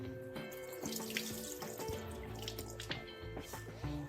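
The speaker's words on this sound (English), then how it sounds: "Then we drain the water from the potatoes they were in" Water from a pot of boiled potatoes runs out into a sink in a steady, continuous gush with splashes and drips, fairly close in a home kitchen.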